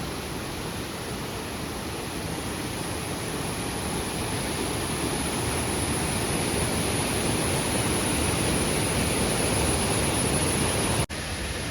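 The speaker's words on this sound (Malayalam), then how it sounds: "ഇലപ്പള്ളി വെള്ളച്ചാട്ടം" The Ilappally waterfall roars as a constant broadband rush of water, loud and steady throughout, with no voices.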